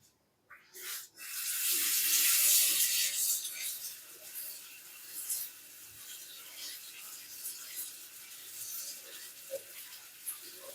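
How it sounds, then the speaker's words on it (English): A household sink faucet runs as something is rinsed out during a whole-house cleaning, a steady hiss of water at first, then quieter splashing and rubbing. "Just rinse this out again."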